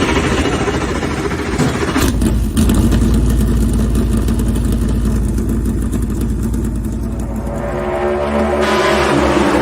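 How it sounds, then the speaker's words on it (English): Race car engines fire up together at Talladega after the start-your-engines command, a loud continuous roar of many engines idling and revving with no pauses, filling the whole stretch. "gentlemen, start your engine"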